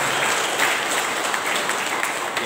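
An audience claps together at a gathering, a dense, steady wash of applause that stays even and fills the whole short stretch without pause.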